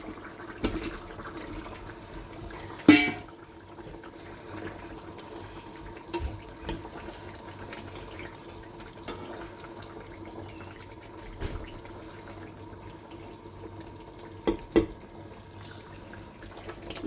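Fish curry gravy simmering in a pot as fried fish pieces are added, giving a steady low bubbling hiss with a few sharp clinks and knocks and no talking.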